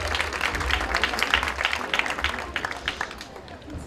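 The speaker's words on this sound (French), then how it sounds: "ce qui mériterait bien une nouvelle fois d'entendre vos applaudissements retentir pour l'une et l'autre" Audience at an equestrian prize-giving applauds the riders with a steady wash of clapping, mid-distance, a low rumble underneath and some voices mixed in.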